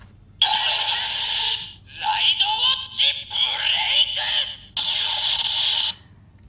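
A Kamen Rider DX Beyond Driver toy belt with a Ridewatch inserted plays bright electronic chimes and a synthesized announcement sound, a few seconds of tinny toy-speaker effects, loud and near.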